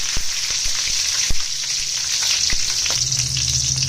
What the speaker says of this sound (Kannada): ಎಣ್ಣೆ ಸ್ವಲ್ಪ ಬಿಸಿಯಾಗಿದೆ. ಸಾಸಿವೆ, ಹಸಿಮೆಣಸಿನಕಾಯಿ 5ರಿಂದ 6